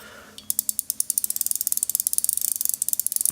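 Rapid ratchet clicking from a brake knob being tightened, a quick steady run of sharp clicks that starts after a brief quiet pause and continues to the end.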